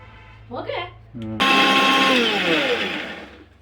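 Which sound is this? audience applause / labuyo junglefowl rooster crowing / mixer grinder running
mixer grinder running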